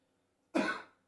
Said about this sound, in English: Oh my God, you're gonna cough.